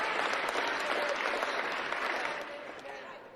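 Sustained crowd applause with full, even clapping that holds strong, then eases slightly toward the end while still continuing.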